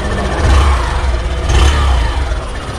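Single-cylinder engine of a 2021 Hero Glamour Xtec BS6 motorcycle revving under throttle blips, a close, steady rumble that swells twice with no talking.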